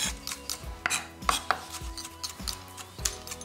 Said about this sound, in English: Make sure you chop them nice and finely.